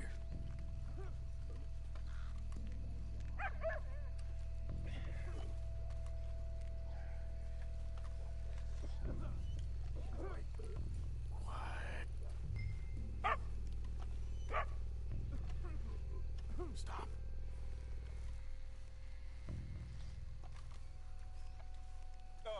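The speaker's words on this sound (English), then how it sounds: "Stupid mutt, get out of here." A dog barks in the Red Dead Redemption 2 video game, with a few scattered barks set against a low, steady ambient hum of the game world, faint and somewhat distant.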